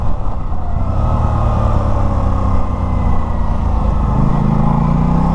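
A 2024 Aprilia RS660 motorcycle runs loud and close, its engine holding a steady drone while the pitch steps between gears in smooth downshifts with auto-blip throttle rises toward the end.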